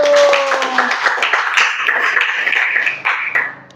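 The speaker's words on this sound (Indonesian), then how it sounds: "Tepuk tangan dulu" A group of hands clapping together, dense and continuous at close range, fading out toward the end, with a few brief tonal sounds mixed in at the start.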